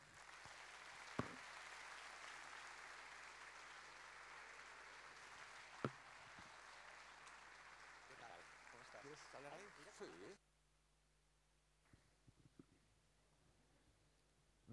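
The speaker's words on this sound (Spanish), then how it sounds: "os pido un aplauso para Carlos Fernández Martínez" A theatre audience at a musical tribute gala applauds a cultural centre director for about ten seconds, a broad wash of clapping with voices inside it, then it stops abruptly and leaves quiet and a few faint sounds.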